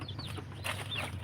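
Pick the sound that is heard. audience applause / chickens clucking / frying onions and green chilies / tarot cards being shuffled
chickens clucking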